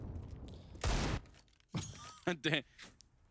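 A grenade explosion going off during a professional CS:GO match on the Overpass map, a single loud broadband blast near the start with a short tail, followed by gunfire and other game sounds while commentators talk.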